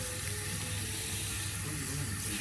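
Water runs steadily from a salon rinse, washing hair colour out in a continuous, close, even hiss with no voices.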